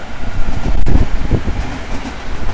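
A train runs through the Ashiya River tunnel in Japan, passing beneath the riverbed, heard as a steady, loud low rumble with a brief clattering surge partway through and no talking.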